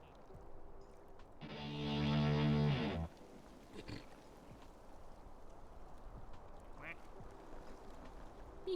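A duck quacks loudly in a rapid burst of nasal calls lasting about a second and a half, standing out against a faint, busy background with occasional soft knocks.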